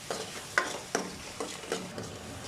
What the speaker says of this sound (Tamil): அதோடு சேர்த்து வெங்காயம் தக்காளி நல்லா வதக்கிக்கலாம்